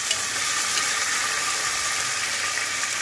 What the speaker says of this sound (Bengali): এবার দেখুন টমেটোটাকে দিয়ে দিচ্ছি, এটাকে নাড়াচাড়া করতে হবে